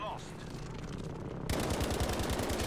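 Rapid automatic gunfire from Battlefield V multiplayer, a steady burst that grows louder and denser halfway through, mixed with game battle noise.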